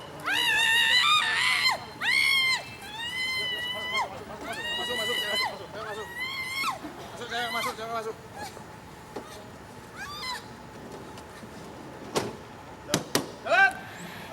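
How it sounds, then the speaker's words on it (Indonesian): A woman arrested as a corruption suspect screams hysterically while officers force her into a detention vehicle, long shrill wailing cries repeated over several seconds, with a car door and other people's voices in a busy outdoor scene. "Tersangka berteriak histeris saat dimasukkan ke dalam mobil."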